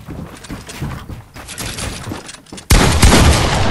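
Gunfire in Fortnite crackles in rapid bursts, then a much louder, denser volley erupts close up and keeps going to the end.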